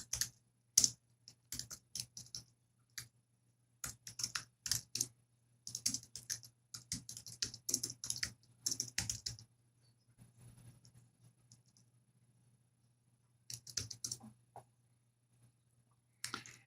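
Typing commands into a terminal on a computer keyboard: quick close clatter of keystrokes in irregular bursts, a short pause, then a few more taps, with no talking.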